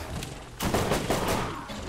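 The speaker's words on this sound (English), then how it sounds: "Time to test out my new gun" A newly acquired gun in Borderlands opens up after a short quiet moment, firing a quick run of loud, closely spaced shots that trail off into a lingering rumble.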